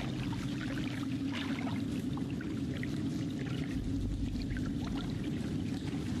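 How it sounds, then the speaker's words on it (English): Water sloshes and ripples in a video game, a continuous low churning wash that carries on steadily for several seconds with no talking. "Water creates ripples, which creates noise, which creates movement."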